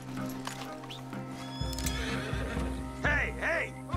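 A horse in the Red Dead Redemption 2 video game whinnies repeatedly in loud, wavering bursts over heavy clip-clopping hooves and rumbling movement, with game music and effects beneath.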